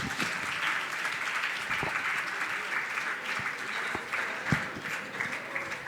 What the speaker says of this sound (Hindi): आप लोग तालियों में कंजूसी नहीं करेंगे।